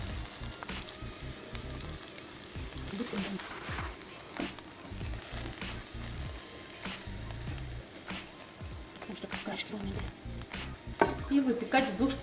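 Liver cake batter fries in a hot pan with oil, a steady crackling sizzle with occasional scraping and utensil knocks, close and continuous.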